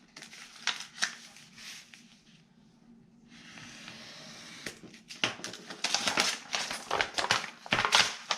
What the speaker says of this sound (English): I am simply going to cut down